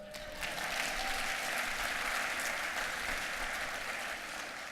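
Audience applause at a chiropractic conference talk in Orlando, a steady wash of many hands clapping at moderate level, continuous and even from start to finish without voices over it.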